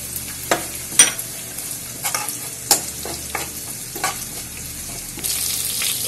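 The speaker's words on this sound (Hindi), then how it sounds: "उसके बाद इसमें चिल्ली डाल देंगे।" Chilli and garlic frying in hot oil in a pan for a crispy honey chilli potato, with scattered sharp stirring scrapes over a steady low sizzle, close and fairly loud, no talking.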